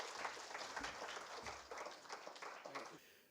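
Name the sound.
audience applause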